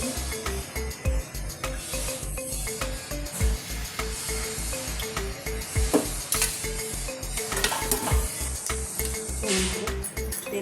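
Oil heats with a steady sizzle in a pressure cooker, ready for tempering a bottle gourd and chana dal curry. The frying hiss runs continuously under a rhythmic, thumping background beat.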